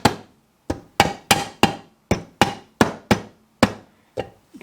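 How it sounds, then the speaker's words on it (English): A rubber mallet tapping alignment dowels into a Suzuki DR-Z400 engine case, about a dozen sharp, close knocks at an irregular pace, each fading quickly, with no talk. "Let me use my rubber mallet to"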